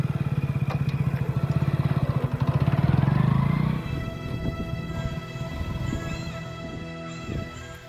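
A motorcycle engine idles loudly up close with a steady throbbing pulse, then drops lower and rougher as it settles into a quieter run.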